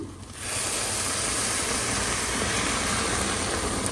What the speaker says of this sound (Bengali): এখন আমি দিব হচ্ছে পানি।